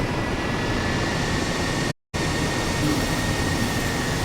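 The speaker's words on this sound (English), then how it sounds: "Bringing my heli up." Airbus H135 helicopter in Microsoft Flight Simulator 2020 running with a steady, loud broadband engine and rotor roar, briefly cutting to silence near the middle before resuming unchanged.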